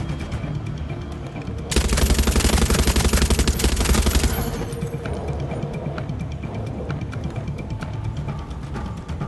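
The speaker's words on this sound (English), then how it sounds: "If I can enter as a gunner and use the gun against them." A mounted machine gun fires in Far Cry 6, one dense, loud burst lasting a couple of seconds, then game ambience continues.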